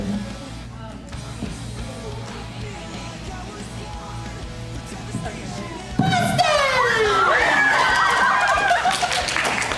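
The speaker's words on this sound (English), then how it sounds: "And the fangirl scream." At an anime convention, an audience of fans erupts into loud, high-pitched fangirl screaming and yelling. The noisy crowd chatter builds into sustained shrieks in the second half.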